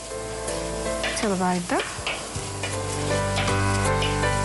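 Shallots frying in a hot clay pot for a mackerel tamarind curry, a steady bright sizzle with stirring scrapes and clinks throughout, and a voice speaking briefly over it.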